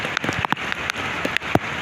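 Heavy rain in Dhaka pours down steadily with irregular drops pattering sharply on a nearby surface, a dense hiss underneath and no voices.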